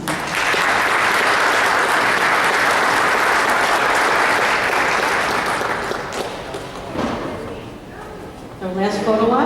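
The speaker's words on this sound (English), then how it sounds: "I want to thank you so much for your wonderful applause and energy as all of our students were honored tonight" A large audience at a school board meeting applauds honored high school students, dense sustained clapping that fills the room loudly for several seconds before thinning out, with a voice starting to speak at the end.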